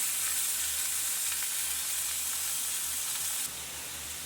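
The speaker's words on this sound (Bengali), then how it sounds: "পুঁই শাকগুলো দিয়ে দিলাম, দিয়ে একটু পুঁই শাকগুলো ভেজে নেবো।" Malabar spinach leaves frying in a pan, a strong, close hissing sizzle that holds steady and then drops slightly in level near the end.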